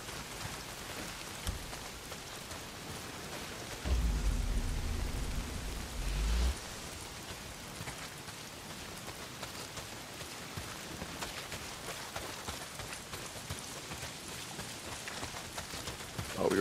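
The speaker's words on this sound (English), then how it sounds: "Well, not if it's pissing down rain." Heavy rain pours in the video game Days Gone as a steady hiss that is faint and even throughout, with a brief louder low rumble partway through and no voices.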